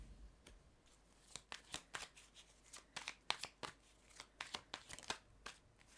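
Tarot cards are shuffled close by in a quick run of crisp, papery riffles and snaps, each burst sharp and distinct, with no talking.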